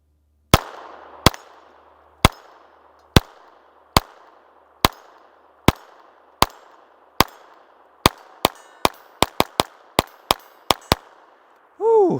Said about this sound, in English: Slow it down, let's do some precision shooting.